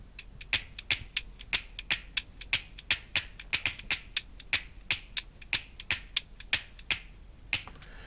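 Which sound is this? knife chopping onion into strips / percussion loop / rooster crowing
percussion loop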